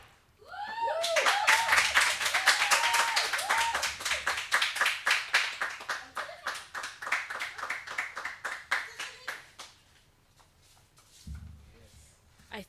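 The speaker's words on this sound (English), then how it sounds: "can we give her another round of applause, please?" Applause from an audience for a poet at a spoken-word event, starting as a thick burst of many hands and thinning into a few scattered, rhythmic claps that fade out near the end.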